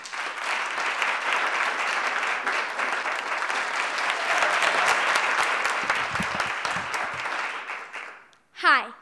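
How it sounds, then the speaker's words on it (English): A live audience claps steadily for a sixth-grade youth storyteller at a storytelling festival showcase, the applause sustained for about eight seconds before fading, followed by a brief distinct sound at the end. "Please give her a round of applause."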